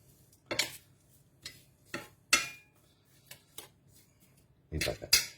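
Seasoning bases get mixed in a dish, with a handful of irregular clinks and scrapes of a utensil against the bowl separated by quiet pauses.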